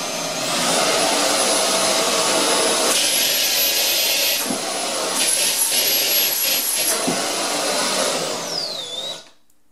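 Rockstar 900 Ultimate Ergowet cordless vacuum cleaner at medium speed, a loud, steady high-pitched motor whine with airflow rush, briefly dipping a few times before spinning down and stopping at the end.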